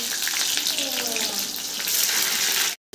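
Sliced onion frying in hot mustard oil, a steady loud sizzle with faint stirring scrapes, held close up for nearly three seconds before cutting out abruptly.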